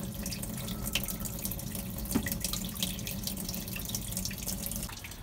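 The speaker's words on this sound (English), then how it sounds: "it's all antifreeze coming out, which is awesome" Antifreeze draining from the block of a Mercruiser 5.7L marine engine during winterizing, a steady close splashing trickle of liquid running without pause, with no talk.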